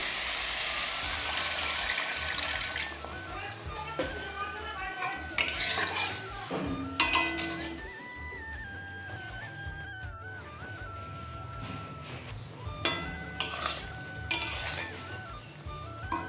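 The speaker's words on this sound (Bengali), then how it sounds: "মশলাটা কষানো হয়ে গেছে এবার এর মধ্যে আমি জল দিয়ে দিচ্ছি" Water hits a fried spice paste in a pan for a spicy sea-fish curry, a brief loud sizzle followed by close stirring with metal clinks and scrapes against the pan, and a tonal ringing in the background.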